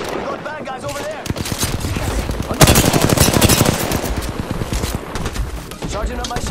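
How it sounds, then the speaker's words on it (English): Sustained automatic gunfire in Apex Legends, dense rapid bursts through the whole stretch that swell louder midway, with a voice talking over the shooting. "Getting shot at"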